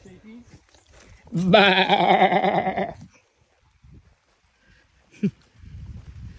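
A single loud, wavering sheep bleat close by, followed by quiet with a few faint rustles and a short sharp noise.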